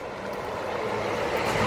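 Buses pull into a bus terminal at night around ten o'clock, giving a steady, fairly loud engine rumble with no speech over it.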